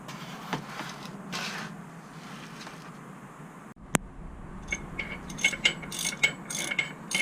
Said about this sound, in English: getting the last of the bolts off of the front pulley here, and about to take it all off